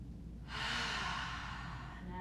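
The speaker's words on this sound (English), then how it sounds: "Take one big inhale in" A person takes a single long, deep inhale during yoga practice, a soft airy breath close to the mic that rises then tapers off.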